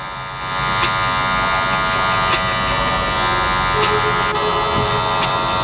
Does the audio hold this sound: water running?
no